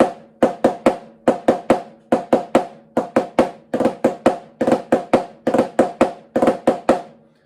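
A snare drum plays the Lesson 25 rudiment in its traditional form: crisp, close strokes grouped in repeating bursts of four with short gaps, steady in tempo and alone without any talking.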